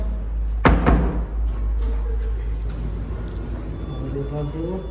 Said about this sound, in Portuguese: Fechar essa porta.